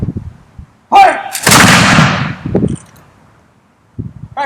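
A Brown Bess flintlock musket volley fires at a Fort Mackinaw demonstration: one loud, sharp crack with a long rolling roar that fades over about a second, and faint voices before and after.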